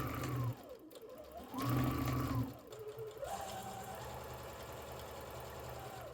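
A sewing machine stitches close to the inner fold of a tea towel, its motor humming quietly and rising and falling in pitch as the speed changes, then running steadily.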